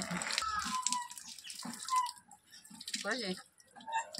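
Water runs and splashes while leaves are washed, intermittent trickling and drips close by, with people, including a child, talking over it.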